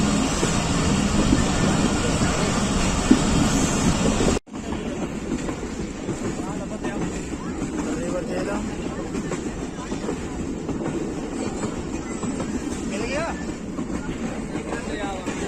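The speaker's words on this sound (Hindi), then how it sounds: "ट्रैक पे मेंटेनेंस का काम हो रहा है, जिसकी वजह से बहुत आहिस्ता ट्रेन चल रही है इस वक्त" The Pakistan Express rolls slowly over a stretch of track under maintenance, a steady rumbling, rattling carriage noise heard from onboard; the sound drops abruptly partway through, then continues slightly quieter with faint clatter.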